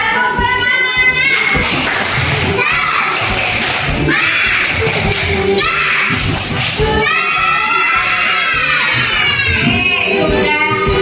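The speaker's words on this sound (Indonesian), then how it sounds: "Tepuk semangatnya." Schoolchildren in a classroom perform a 'tepuk semangat' clapping chant, a loud, continuous wash of young voices chanting and shouting together with thumping claps running throughout.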